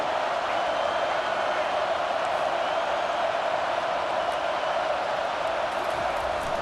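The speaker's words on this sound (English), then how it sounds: "Decibels rising as the crowd gets behind this defense on third down." Cheering from a stadium crowd in the college football video game EA Sports College Football 25 swells into a steady, dense roar on third down, constant and loud across the stretch, with no single voice standing out.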